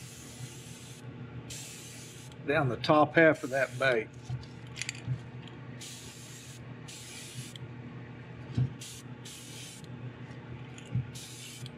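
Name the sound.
spraying black paint onto a lure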